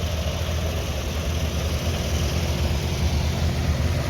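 A vintage tractor engine idles steadily at a Red Power show, a continuous low rumble held close and loud throughout, with no talk.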